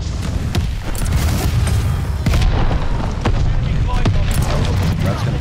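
Grenade launcher blasts in a video game go off repeatedly, heavy booming explosions in rapid succession over a dense rumbling battle din, loud and close, with a voice talking underneath.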